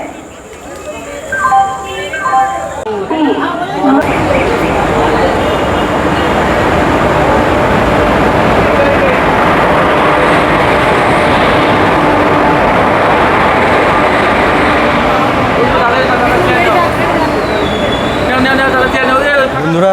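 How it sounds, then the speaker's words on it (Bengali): A train pulls into platform 2 at Naihati station, a loud, continuous rumble and roar of wheels and carriages with squeals, lasting a long stretch after a few seconds of people talking and platform noise. "নৈহাটি স্টেশনের 2 নম্বর প্ল্যাটফর্মে আমাদের ট্রেন আসছে।"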